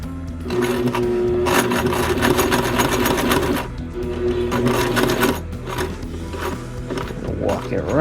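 A sewing machine stitches a shirt while being cranked slowly by hand, its needle mechanism chattering in a steady rhythmic clatter with brief pauses and pitch shifts as the crank speed changes.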